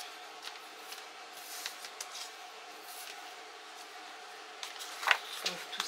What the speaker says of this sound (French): Et puis là on va découper.